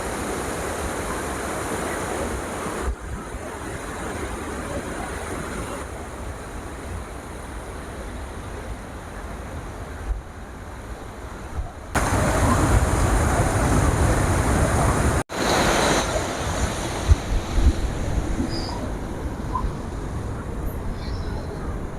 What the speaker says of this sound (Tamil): இந்த ஏரியிலேருந்து ரொம்ப சுத்தமான தண்ணி மழை தண்ணி வெளியில் வருது